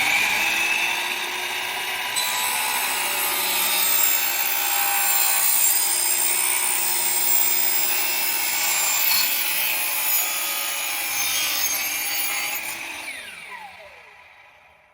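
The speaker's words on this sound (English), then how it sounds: "you put your hand here and you let the saw do the work." A saw cuts steadily through a block while fabricating an aluminum retractable screen, a loud continuous whine that holds for about twelve seconds before winding down and fading out.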